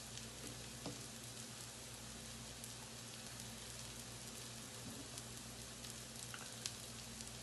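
Soft, steady sizzling of Guyanese-style salmon patties frying in a pan, a quiet continuous crackle with occasional faint pops and no voices.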